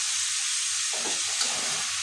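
Papaya and potato pieces sizzle with spices in a pan, giving a short, steady, moderately loud hiss with a slight stir-like rustle partway through.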